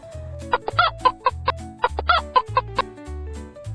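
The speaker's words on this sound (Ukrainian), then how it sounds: "Тут курочка. Курочка. Курочка каже ко-ко-ко-ко-ко." Quick, regular clucks repeat over a rhythmic musical backing, sounding like a toy or recording of a hen rather than a live bird.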